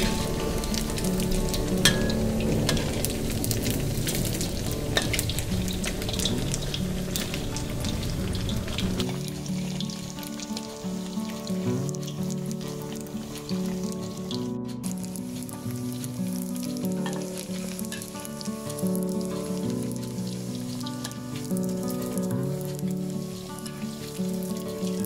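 Pork coated with glass noodles deep-frying in hot oil, a loud continuous sizzle and crackle that settles into a steadier bubbling hiss partway through, close up.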